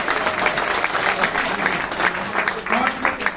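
Audience applause at an Independence Day comedy and poetry show, a steady wash of many hands clapping close by throughout, with a voice briefly heard over it.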